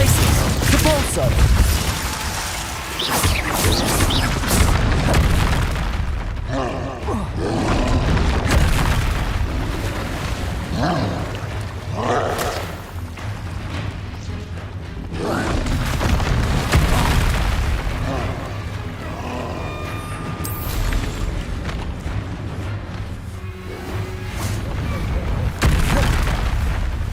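Spell combat in Hogwarts Legacy, with continuous booming blasts, bursts and crackling impacts layered over a dense, loud battle din, while a voice calls out spell names throughout.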